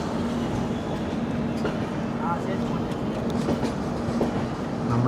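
The Kerala Express runs along the rails on its journey from Palakkad, a continuous loud rumble of wheels and carriages with faint clickety-clack, heard from inside the train with voices talking underneath.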